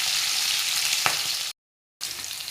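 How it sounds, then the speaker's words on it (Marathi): Cumin seeds and green chillies fry in hot oil for a cauliflower and potato dish, a loud steady sizzle broken by a brief gap of silence before the crackling resumes. "जिरं टाकून घेऊ, त्यानंतर या मिरच्या पण टाकून घेऊ।"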